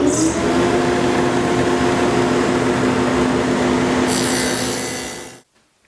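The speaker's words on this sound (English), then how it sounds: "I've lined up the dado blade back in there again." A dado blade stack on a table saw cutting wood makes a loud, steady whining roar for about five seconds, with a brighter edge near the end before it cuts off abruptly.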